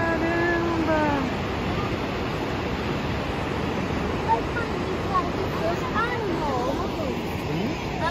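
A tall waterfall in Tallulah Gorge gives off a steady, broad rushing roar from a distance, with people talking excitedly over it.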